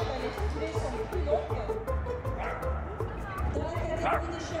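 Dogs bark and yip at a dog agility show, with several barks scattered through a dense, continuous crowd babble and commentary-like talk that runs throughout.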